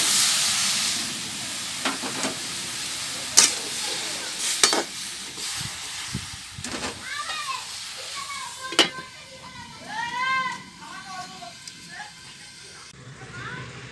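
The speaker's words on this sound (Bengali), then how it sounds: "ডাটাগুলো সুন্দর করে এতে দিয়ে একটু হালকা করে ভাপ দিয়ে নেব।" Taro flower stalks are steamed in a wok with a little water, giving a soft steady hiss and sizzle with occasional stirring clinks and knocks, plus faint chirpy background sounds later on.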